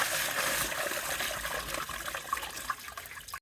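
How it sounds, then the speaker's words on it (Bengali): Steady running water splashes over chopped chicken giblets, liver and gizzard being rinsed in a kitchen, a continuous close hiss of flowing and trickling water with small splashes, no voices. "এবার 2-3 বার ভালো করে ধুয়ে নেবো"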